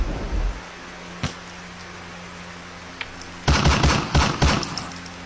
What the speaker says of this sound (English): Slept through gunshots.